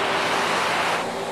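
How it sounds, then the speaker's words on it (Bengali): River water flows past a homestead in Santook, Kalimpong, a steady close rush of broadband noise that stays loud and even through the brief moment, with no voices. "নিস্তব্ধ, শুধু পাখির ডাক আর এই জলের শব্দ"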